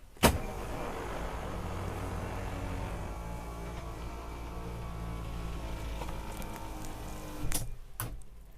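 An electric bed motor in a Thor Sanctuary RV runs with a steady, low mechanical whir for several seconds, bracketed by sharp clicks at the start and finish, quiet and close with no talking.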